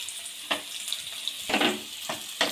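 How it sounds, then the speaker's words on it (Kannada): Onions with green chillies, coriander and mint frying in a pan for mutton boti fry, a soft steady sizzle broken by a few brief scraping stirs, close and with no talk. "ಹಾಕಿ ನೀಟಾಗಿ ಹುರ್ಕೊಳ್ಳಿ."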